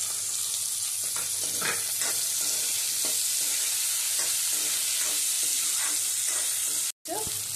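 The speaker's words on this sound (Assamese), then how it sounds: "পিয়াজটো ভাজি লৈছে এতিয়া আলু দি দিম" Onion and potato, with ginger added, sizzle steadily in a hot pan for a curry, a constant close frying hiss broken by intermittent stirring scrapes and a brief dropout near the end.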